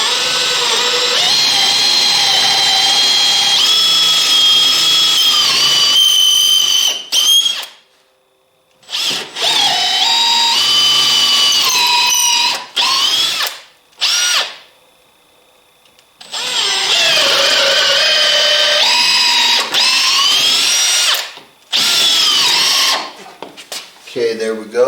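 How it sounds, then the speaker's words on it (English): A power drill whines loudly in several long bursts, drilling mounting holes straight down for an RCBS Rock Chucker Supreme reloading press, pitch shifting under load, with short pauses between runs and some speech mixed in. "I want to drill my holes down"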